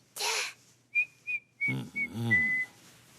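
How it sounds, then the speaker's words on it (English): Short, clear whistled notes come in a few quick bursts, close by, mixed with a voice and brief vocal sounds. "I know how to whistle now."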